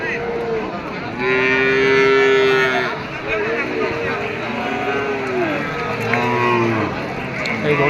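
A cow at a busy cattle market moos in several long, loud, close calls. Other lowing follows, and a crowd murmurs with voices talking underneath.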